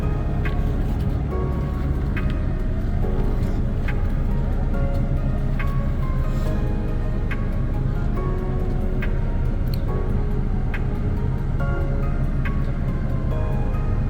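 A semi truck backs up slowly to line up with its trailer, a steady low diesel rumble with faint clicks, heard close and continuous with some talk.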